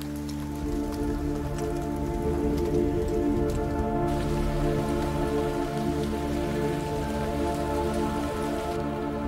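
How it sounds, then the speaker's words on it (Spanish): Steady rain pattering on a surface, close and continuous, with many drops and drips over a constant hum, no voices. "Y volvió la lluvia."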